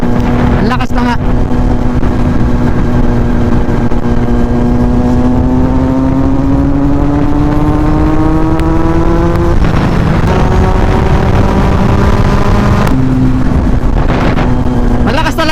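A Kawasaki Z900 motorcycle accelerates hard on an expressway, its engine pitch climbing steadily through the gears with brief drops at each shift, loud and close amid wind roar.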